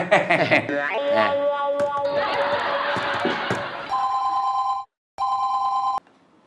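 Telephone ringing in a comedy scene: a clear electronic ring repeats twice near the end, following a stretch of laughter and mixed voices and effects.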